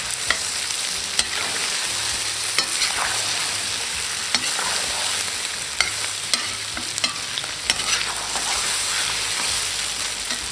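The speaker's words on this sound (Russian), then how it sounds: "И нам нужно хорошо обжарить лук." Chopped onions frying with beef in a pot for Uzbek plov, a loud steady sizzle broken by regular scraping clicks of a utensil stirring every second or so, close up with no talking.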